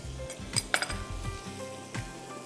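Prawns frying in salted butter with black pepper in a pan, a steady close sizzle with a few sharp clinks of utensil on metal over it.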